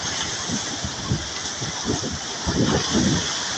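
Steady rain pours over a broadband wash of wind, with low gusty rumbles swelling and fading throughout.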